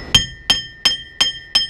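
A hammer strikes a punch to drive wheel studs out of a 2001 Ford F250 hub during a wheel bearing replacement, five sharp metallic ringing blows at an even pace, loud and close.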